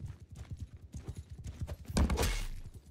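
Horse hooves clip-clopping at a gallop in the medieval combat game Mount and Blade 2 Bannerlord, a steady rapid rhythm of close thuds that swells into a louder crashing burst near the end.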